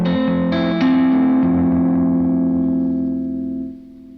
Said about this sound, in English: It's a digital overdrive, but I think it sounds really good.